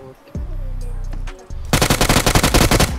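Shotgun fire in a mobile battle royale tournament match on an iPhone 11: a low hum, then a rapid burst of loud close gunshots in quick succession, sharp and punchy, no speech.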